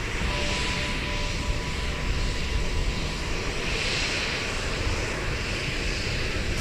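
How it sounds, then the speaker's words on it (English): A China Eastern Airlines Airbus A321 revs up to take off at Seoul Incheon Airport, its engines giving a steady, loud, continuous roar with no voices over it. "So it looks like we've got China Eastern Airlines getting ready to"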